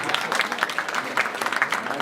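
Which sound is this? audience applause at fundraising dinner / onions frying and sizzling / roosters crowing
audience applause at fundraising dinner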